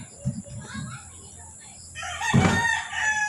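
A gamecock rooster crows loudly and close by, one clear cock-a-doodle-doo in the second half, after a few soft clucks and background murmurs.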